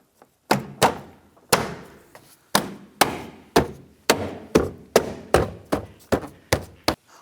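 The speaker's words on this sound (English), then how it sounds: "And then just pop on the door clips" Door trim clips on a 2007-17 Jeep Wrangler are popped into place one after another, about a dozen sharp, close thunks in a steady rhythm with quiet gaps between them.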